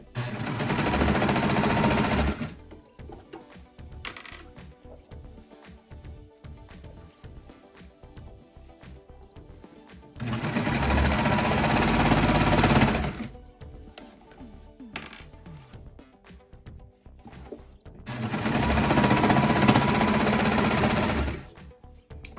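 A sewing machine stitches fold-over elastic onto a waistband in three steady, whirring runs of a few seconds each, separated by quieter pauses with faint handling noise.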